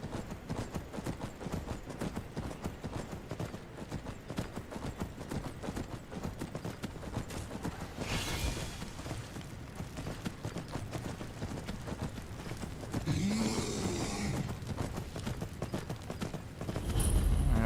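Horse hooves clip-clop steadily in Skyrim as the horse moves along a path, a continuous rhythmic trotting with occasional brief louder bursts and light background ambience.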